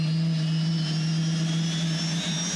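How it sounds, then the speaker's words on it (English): The Helmut TX prototype race car, powered by a 350 bhp helicopter turbine engine, gives a steady, close, high-pitched turbine whine with a strong low hum underneath, holding constant throughout. "The Helmut TX of Javier Mascheron, a prototype powered by a helicopter engine"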